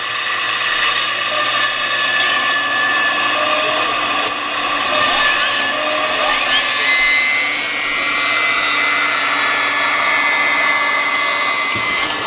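The hydraulic pump of an RC excavator with a Servonaut SMB unit runs continuously, a loud, close, steady electric whine with a rising shift in pitch partway through, and no speech.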